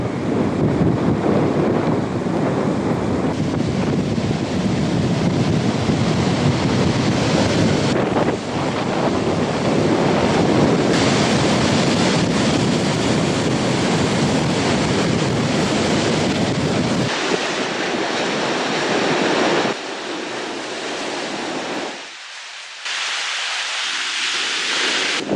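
Rough sea waves crash and roar along the Sri Lankan coast as a cyclone approaches, heavy wind buffeting the microphone in a continuous loud wash that briefly drops away near the end.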